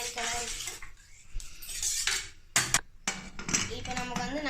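A spoon stirring rice and water in a pot for tomato rice, with repeated metallic scrapes and clinks against the vessel, close and clear, in a few bursts with brief pauses.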